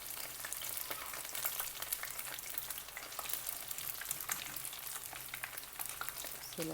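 Algerian chicken bourek pastries fry in hot oil as they turn golden, a quiet, even crackling fizz with small pops throughout.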